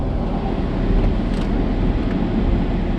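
A steady, loud roar of a fighter jet passing overhead, broad and rumbling with wind buffeting the microphone throughout.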